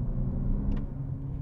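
Artificial engine noise piped through the cabin speakers of a 2019 Lexus UX250h F-Sport hybrid in sport mode: a steady low droning rumble, close and moderately loud, with no talking.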